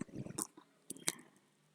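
Chicken pieces being stirred in their own juices in a pan while cooking white kurma, giving a few soft, wet squelching scrapes in two brief bursts, quiet and close.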